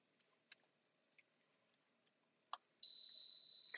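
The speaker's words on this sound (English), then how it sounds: "Something's beeping at me." An induction cooktop in a home kitchen gives a few faint clicks and taps, then a sustained high electronic beep that holds steadily to the end, close and clear with no talk.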